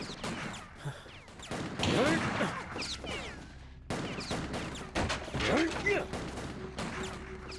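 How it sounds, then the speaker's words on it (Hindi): Bursts of gunfire crackle through a tense action-movie scene, with sharp rapid reports mixed among shouting Hindi voices and mechanical clatter. "गोली चलाओ।"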